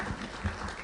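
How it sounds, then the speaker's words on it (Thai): Audience applause at an academic seminar on media and information literacy, welcoming the next speaker; a brief, steady wash of clapping at moderate distance, with no voices over it. "ขอเสียงปรบมือกับท่านด้วยครับ"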